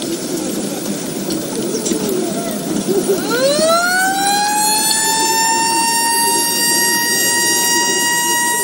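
A fire engine siren winds up and then holds a loud, sustained wail during a fire and rescue brigade readiness drill in Kariakoo, Dar es Salaam, over a background of street noise.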